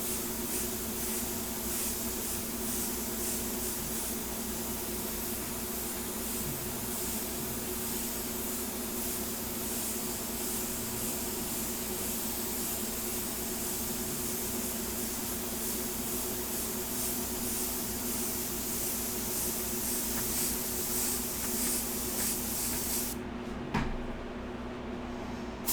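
An airbrush sprays paint in a continuous, even hiss as dark hair tones are built up, then stops abruptly near the end.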